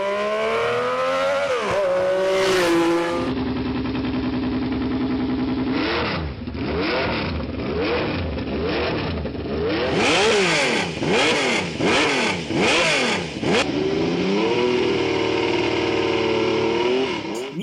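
A Laverda V6 1000cc endurance racing motorcycle engine revs hard and loud, its note climbing and falling in repeated sharp bursts of acceleration and throttle blips, with no talking over it.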